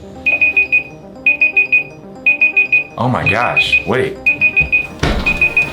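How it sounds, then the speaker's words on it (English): A kitchen-style timer beeps in repeated bursts of four quick high tones, loud and close, while someone speaks over it in the middle and a thump lands near the end. "What is that beeping sound?"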